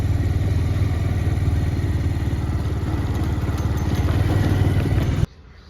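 A motorcycle engine idles nearby in a parking area, a steady, rapid mid-pitched throb with light mechanical clatter, cutting off abruptly near the end.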